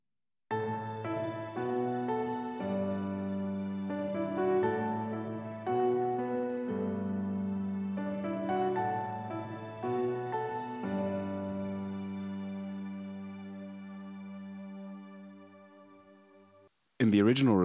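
Keyboard interlude from a song, played as sustained chords with a bouncing melodic line, steady and full for most of the passage before thinning out and fading, then cut by a brief loud burst at the very end.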